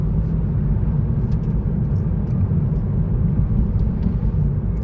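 Honda Fit GP5 under way, with a steady, dense low rumble of engine and road noise filling the cabin and no clear talk.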